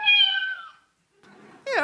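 An AI model trained only on instruments such as guitars and flutes recreates a cat's meow, giving a tonal, harmonic meow-like cry, then a short pause, breathy noise and a rising second meow, all close and clear.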